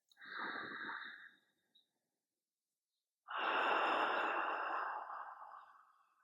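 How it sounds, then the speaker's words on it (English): Slow, deep breaths during a calm yoga session: a soft, drawn-out inhale or exhale, a short pause with a faint catch, then a longer, fuller breath close to the microphone. "Let's take one more round of breath."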